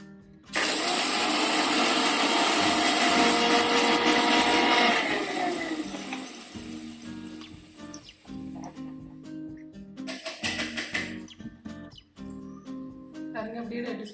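Mixer grinder jar grinding dried red chillies, a loud high-pitched motor whine that starts abruptly and runs for several seconds, then cuts out, leaving rattling, clinking and a voice talking.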